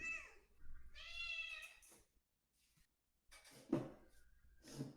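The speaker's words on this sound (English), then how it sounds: "One very persistent and angry cat." A persistent, angry cat meowing up close, several drawn-out yowls separated by short quiet gaps, with no talk over them.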